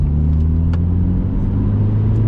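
A tuned BMW 120d four-cylinder diesel engine idles and hums with a steady low rumble, close by, with slight rises in revs and no voices.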